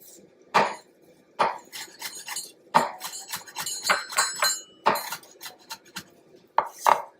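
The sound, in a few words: knife chopping parsley on cutting board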